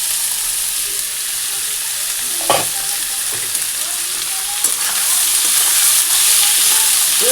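Whole dried red chillies, whole garam masala and cumin seeds crackle and sizzle in hot oil, with close stirring scrapes in a steady frying hiss and a few sharper pops.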